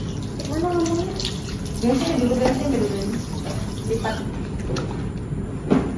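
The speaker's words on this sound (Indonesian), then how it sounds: "Lalu kita cuci tangan kembali." Running tap water pours steadily as hands are washed again after removing gloves during a clinical resuscitation training procedure, a continuous wash heard throughout with voices in the background.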